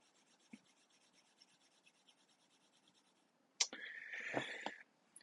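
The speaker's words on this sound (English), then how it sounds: "Okay, so I'm gonna erase it first." Someone erases writing from a board: after faint scattered ticks, a brief, close rubbing swipe of about a second rises sharply and then stops.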